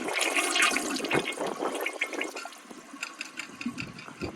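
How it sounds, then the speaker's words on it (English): Water rushes and splashes into the bowl of a 1983 Kohler Wellworth toilet with a Water Guard, a loud, close gush that gradually settles into a softer trickle, with no talking. "I'm gonna have to add some water to the bowl."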